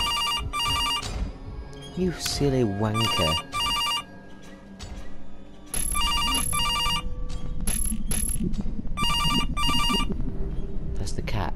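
A phone ringing in CASE: Animatronics, its electronic trill repeating in short evenly spaced bursts across the clip while someone talks over it and shouts.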